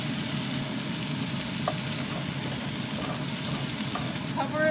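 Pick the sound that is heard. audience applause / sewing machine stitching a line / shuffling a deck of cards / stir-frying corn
stir-frying corn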